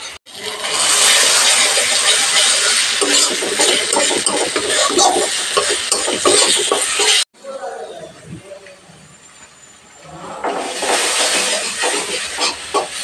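Spices for a pabda fish curry being stirred and fried in a pan: a loud, steady sizzling hiss with scraping underneath, breaking off briefly, going quieter, then surging back as the stirring resumes.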